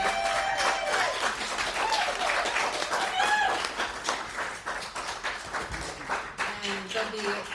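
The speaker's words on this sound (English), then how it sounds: "let's give these joys a round of applause" An audience at a book event for a queer love story claps in sustained, dense applause that gradually thins out toward the end.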